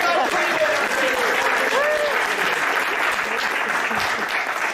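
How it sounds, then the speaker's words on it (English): Sustained, dense applause from a theater audience at an improvised Dungeons & Dragons comedy show, a steady wash of many hands at even loudness throughout, with faint voices and a few cheers mixed into the crowd. "Yes, you may applaud"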